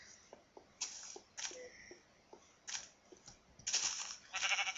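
Blocky Minecraft sheep bleat in several short, bright bursts, with soft game clicks and footsteps between them, fairly close and clear without talk.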